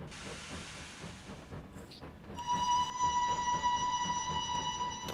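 A steam train whistle from Trainz Railroad Simulator 2019 sounds after a hiss of steam, a loud sustained chime-like tone holding for several seconds over a rumbling background.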